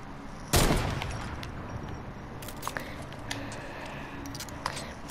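Gunfire in Fortnite: one sharp close shot opens, followed by several fainter scattered pops and clicks over a low background hum.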